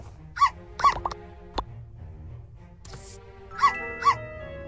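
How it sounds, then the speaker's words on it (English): A dog in the video game My Time at Portia gives short yipping barks in pairs, with a pause between the pairs and light game sounds around them. "This dog will become mine, based only on the bacon fish rolls."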